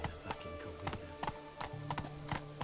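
Roach the horse clip-clops along in The Witcher 3, her hooves striking in a steady, even rhythm over a faint sustained tone.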